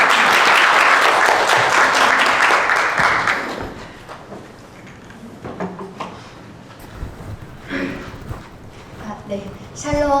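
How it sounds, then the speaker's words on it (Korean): A church audience at an evangelism gathering breaks into loud applause that fades after about four seconds, leaving scattered knocks, footsteps and room noise. "큰 박수로 환영합니다."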